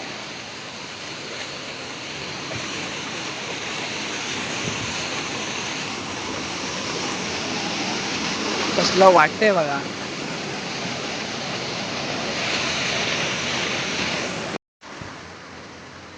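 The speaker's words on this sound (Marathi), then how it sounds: "असा आमच्या वाडीमध्ये वॉटरफॉल आहे." Water gushes steadily out of a culvert at a small village waterfall in the Konkan countryside, a continuous broadband rush heard close by, with a voice talking over it and a brief louder splash partway through.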